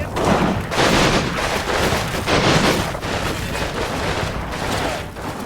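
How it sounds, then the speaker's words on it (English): Dense, sustained gunfire from the Combat Mission wargame rolls on without pause, with rifle and light machine gun bursts blurring into a loud, rumbling barrage of overlapping shots and booms. "my men continue firing"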